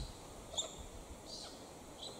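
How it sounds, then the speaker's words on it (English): A galah circles overhead and gives a few faint, distant, sharp calls spaced apart over quiet outdoor background. "I've got a galah circling, making a bit of a noise"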